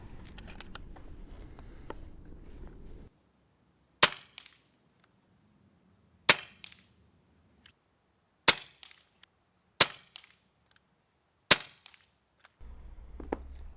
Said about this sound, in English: I'm going to shoot these Barracudas at the 50 at the bottom left.